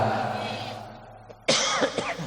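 A preacher's voice trails off during a Sundanese sermon, then a sudden loud cough bursts out, followed by a few rougher throaty coughs close to the microphone.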